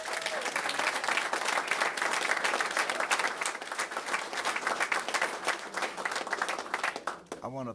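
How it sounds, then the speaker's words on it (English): A crowd at a west Louisville career training event applauds the mayor loudly and continuously for several seconds, then tapers off at the very end as a voice begins. "I think we need to really give him a big round of applause."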